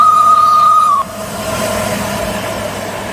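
A passing train, presented as the LNER A2 Pacific steam locomotive Blue Peter, gives a steady rumbling roar with a sustained high whistle-like tone that cuts off abruptly, then continued rolling noise.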